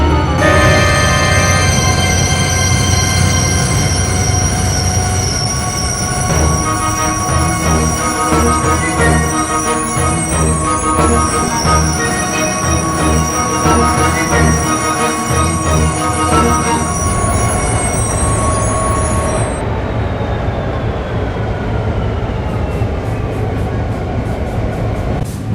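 A train running on rails, with sustained rumble, wheel squeal and tonal whines that stay loud and steady before easing off near the end, no talking.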